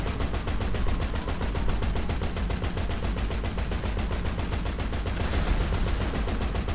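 A half-track's mounted gun in GTA 5 Online fires a rapid, unbroken automatic stream, each shot a sharp heavy crack in a loud, even rhythm lasting the whole stretch, with no voices.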